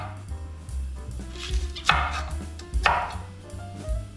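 A knife chops a green chili pepper into small pieces on a board during outdoor camp cooking, several firm close knocks spaced unevenly over a low steady background hum.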